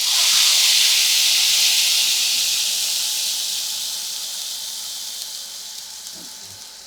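Ground spice paste with asafoetida hits a hot pan, bursting into a loud, bright sizzling hiss that slowly fades over several seconds, alone with no talking.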